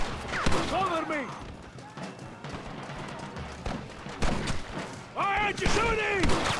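Red Dead Redemption shootout with repeated gunshots cracking between bursts of shouting voices, loud and close, several shots scattered across the clip amid game ambience.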